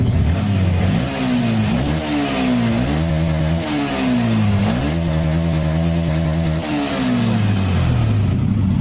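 A Yamaha Vixion motorcycle engine revs up and down repeatedly, close and loud, its pitch climbing and falling in a series of throttle blips with no talking.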